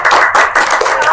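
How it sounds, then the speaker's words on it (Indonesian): A short burst of hand clapping from a small group of children, fairly loud and close, rising and falling in quick patters over about a second. "Tepuk tangan dulu boleh."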